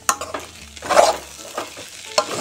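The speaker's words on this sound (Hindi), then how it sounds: "और आप मीडियम फ्लेम पे या लो फ्लेम पे इसे हिलाएं।" Vegetable poha with spices is stirred in a pan over a medium to low flame, giving close, brisk scraping and shuffling strokes over a soft sizzle, with no talking.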